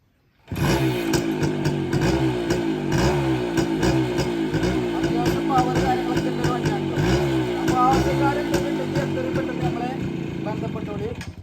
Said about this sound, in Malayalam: വണ്ടിന്റെ സൗണ്ട് ഒന്ന് കേൾപ്പിച്ചുതരാം